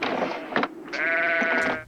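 Sheep bleat inside a truck carrying a load of them in a film scene, two close, loud wavering calls, a short one followed by a longer drawn-out bleat.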